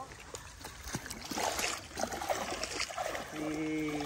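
A strong clear-river current rushes and trickles steadily with splashy bursts, fairly close, while people talk faintly over it and a brief engine hum appears near the end.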